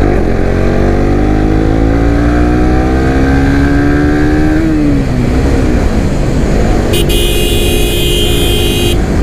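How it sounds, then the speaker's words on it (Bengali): A motorcycle engine brakes down from over 70 km/h: a loud, close engine drone whose pitch falls steadily as the bike slows, with a short high-pitched tone near the end. "আমি 70+ স্পিডে এখন ব্রেক দিব ইঞ্জিন ব্রেক"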